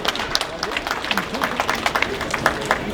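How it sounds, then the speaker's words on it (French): An audience at an animal show claps in a quick, scattered burst of applause for a podium finisher, moderately close, with a voice talking over it. "On l'applaudit très fort"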